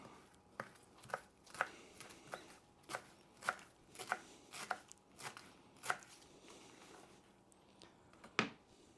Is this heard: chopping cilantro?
yes